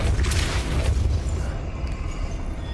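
A Depulso spell in Hogwarts Legacy lands as a deep, booming blast that swells at the start and then fades into a low rumbling tail.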